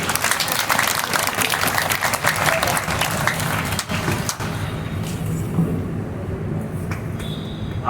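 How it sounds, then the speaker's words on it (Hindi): Classroom applause during a Hindi current-affairs lecture: dense, steady clapping from a group of students for about four seconds, then thinning out and fading into a quieter room murmur. "ताली बजाओ।"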